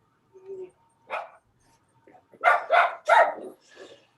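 A dog barks several times in quick succession, fairly close, after a couple of softer yips and whimpers.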